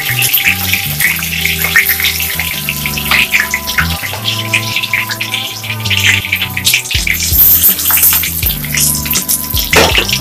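Pieces of marinated, coated chicken frying in oil, a dense, loud and continuous crackle and bubbling with a low background hum, heard close up and without any voices throughout.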